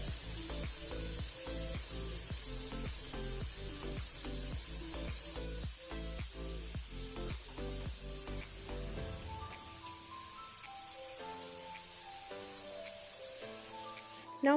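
Four big finely chopped onions and fennel seed sizzle in a pan for a spicy chicken curry, a steady hiss that fades partway through, with rhythmic musical tones playing alongside.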